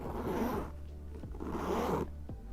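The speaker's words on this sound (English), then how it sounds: "you know I love testing zips out" Zipper on a merch bag, apparently a Boston bag, drawn open and then closed again in two smooth, close, steady pulls with no talking.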